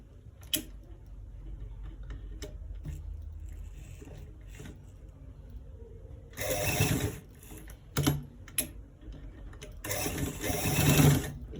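Domestic sewing machine stitching the inner pocket of a V-neck garment, running in a few separate bursts of whirring stitches with quieter pauses and faint ticking between them, fairly close and loud.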